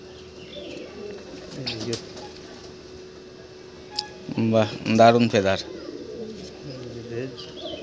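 Pigeons coo softly in the background, low throaty calls repeating on and off while someone talks over them nearby.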